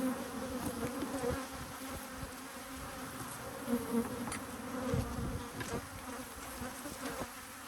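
Honey bees buzz around the inside and lid of a hive box during a hive split, a dense, continuous droning hum close by with occasional louder passes of individual bees and no talk.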